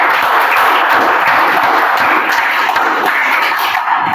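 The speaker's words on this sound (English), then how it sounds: "And that deserves a huge round of applause." An audience at a Toastmasters meeting claps in a dense, steady wash of applause that stays loud and close from start to finish.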